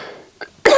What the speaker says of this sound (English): Oh, tickly cough there.